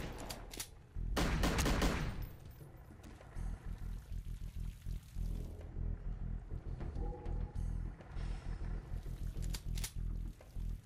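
Golden gun shots in GoldenEye 2, a loud burst of rapid gunfire early on followed by scattered shots and clattering game effects, close and without talk.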